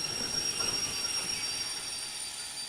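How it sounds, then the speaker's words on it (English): Steam locomotive brake applied in the Derail Valley train simulator game, a steady hissing rush with a faint high whine and mechanical rumble, continuous and without speech. "I know that's the train brake, but never mind."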